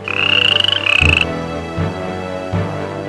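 A frog croaks loudly and nearby, first two long rasping calls, then a few shorter, deeper croaks.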